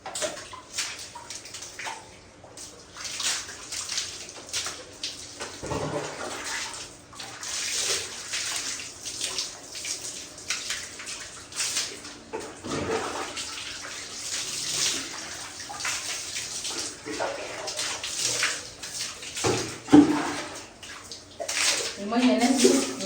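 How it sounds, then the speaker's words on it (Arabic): Water pours steadily from a tank, running hot as if from a heater, during a summer home cleaning routine; a continuous splashing flow like a filling bathtub carries on throughout, with occasional sloshes and a voice now and then. "المية نازلة من الخزان سخنة، كأنها نازلة من السخان"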